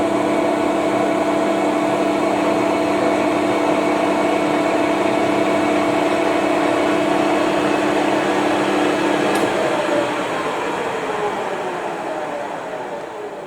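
A lathe turns a part clamped in a 3-jaw chuck, giving a steady close mechanical hum with faint tonal whine that runs evenly, then begins to wind down and fade near the end, with no talk.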